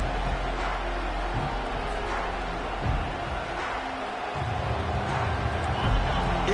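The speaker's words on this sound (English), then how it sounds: "It's early, but this crowd is fired up. Listen to this noise here." Dense, steady roar of a fired-up crowd at an early stretch of a Stanford versus LSU college football game, a broad wash of cheering that swells and dips slightly throughout.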